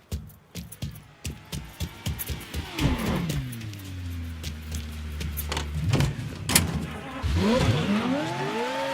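A car engine warming up in the video game Mafia 3 starts with a series of sharp clicks and knocks, then settles into a revving engine whose pitch rises and falls, close and moderately loud with no speech.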